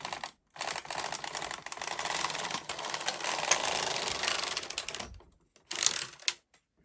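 A Knitmaster MK-70/HK-160 knitting machine carriage is pushed slowly across a row, giving a close, continuous mechanical clatter and whir that pauses briefly, then resumes in a short final burst.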